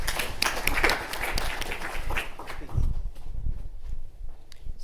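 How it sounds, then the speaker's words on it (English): Applause from a conference audience at an AI bootcamp session. Scattered, close claps are fairly loud at first, then thin out and fade to a few isolated claps. "So let's give her a round of applause."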